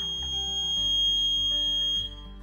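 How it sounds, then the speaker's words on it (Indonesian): A buzzer driven from an ESP8266 NodeMCU digital output sounds a steady, loud electronic tone with a harmonic whine, close to the mic and held for about two seconds before it quiets slightly. "Nah, nyala ya buzzernya."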